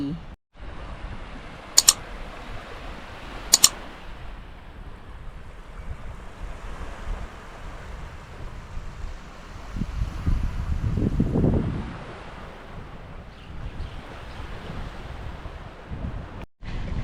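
Sea waves washing onto the beach at Hua Hin under steady wind and microphone rumble, with a heavier surge rolling in near the middle, a couple of sharp clicks early on and no clear talking.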